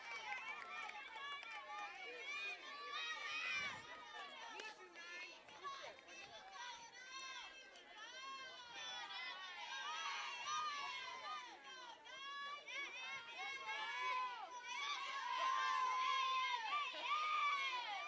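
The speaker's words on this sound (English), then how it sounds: "Plenty of cheering coming out of both dugouts now" Girls' voices cheer and chant from both dugouts at a high school softball game, a lively continuous mix of overlapping shouts and calls at moderate distance.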